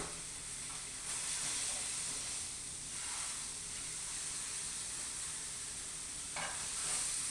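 Meat for a pot roast browns in a skillet on high heat, a close, constant hissing sizzle with slight swells of spitting steam throughout.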